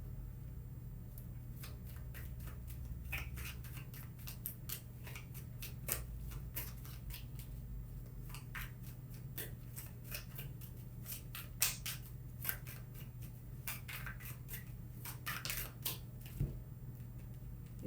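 Tarot cards handled and shuffled up close, with a steady run of crisp flicks, riffles and taps over a constant low hum, no voices present.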